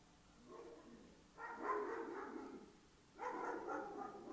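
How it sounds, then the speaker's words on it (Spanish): Neighbours' dogs barking outside a window, two muffled bursts of distant, overlapping barks separated by a short lull, faint against quiet room tone. "siempre se oyen perros, pero son los de mis vecinos."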